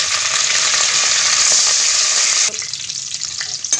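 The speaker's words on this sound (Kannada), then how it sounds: "ಈಗ ಮೆಂತ್ಯ ಸೊಪ್ಪು ಹಾಕ್ತಾಯಿದ್ದೀನಿ." Fenugreek leaves fry in hot oil, with cashews already browned in the pan, making a loud, dense, continuous sizzle that drops abruptly to a quieter, patchier crackle near the end.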